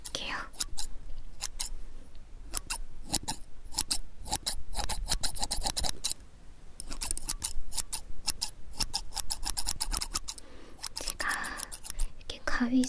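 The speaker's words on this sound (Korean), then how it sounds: "이렇게 가위질을 아무렇게나 하는 것 같아도 나름 방향 생각하면서 하고 있는 거거든요" Scissors snip close to the microphone during ear repair shop ASMR, in rapid bursts of crisp cuts with brief pauses. A voice whispers softly under them.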